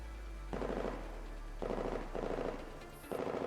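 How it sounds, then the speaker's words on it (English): Faint, muffled bursts of automatic gunfire come in several short rattling volleys, far off and subdued beneath a low steady hum. "The sound of gunfire fades behind them."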